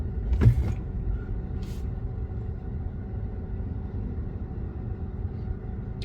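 Cars pass through a busy roundabout in Wollongong, a low continuous engine rumble and road noise heard from inside a car, with a brief louder swell near the start and a faint rattle later.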